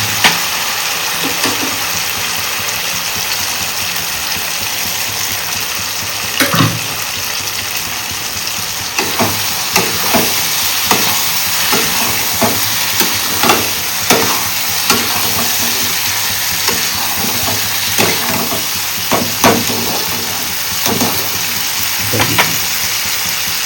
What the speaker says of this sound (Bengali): দিয়ে আবার নেড়ে চেড়ে ভেজে রাখা চিংড়িগুলো এর মধ্যে দিয়ে দেবো